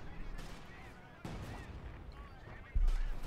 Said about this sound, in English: Stugi though bombarding the rear echelons with the 75mm high explosive shells